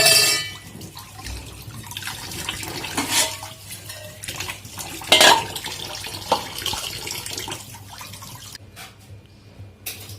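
Running tap water splashing and trickling as fish is rinsed in a kitchen sink, with irregular louder splashes and drips, close by and without speech.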